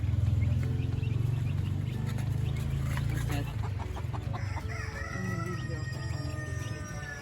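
Chickens with newly hatched chicks on a farm in summer: a dense, close clucking and crowing chorus with high, thin peeping from the chicks, steady and loud throughout.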